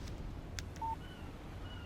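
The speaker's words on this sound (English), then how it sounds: "Text message from Barry." A phone in the video game Alan Wake gives a brief, clear electronic beep as a text message alert, heard once over a steady low ambient hum.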